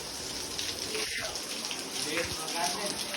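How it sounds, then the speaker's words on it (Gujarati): Water falls from above inside a hidden waterfall at Nazar Mata in Panchmahal, a steady close splashing rush that continues throughout, with faint voices in the background. "અને આ ઉપરથી બી પાણી પડે છે."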